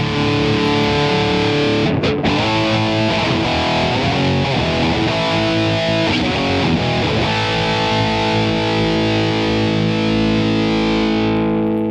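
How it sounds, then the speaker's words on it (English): An electric guitar plays heavily distorted chords and riffs through the Insane channel of a Line 6 Spider Classic 15 amp, sustaining thick, saturated tones throughout with no voices. "Quite a nice distortion, but it's not really what I'd call insane."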